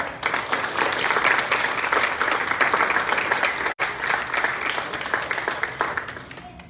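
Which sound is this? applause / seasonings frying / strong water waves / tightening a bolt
applause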